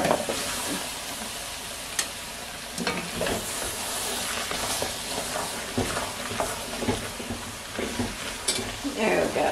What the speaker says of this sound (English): Go ahead and put our vegetables back in here.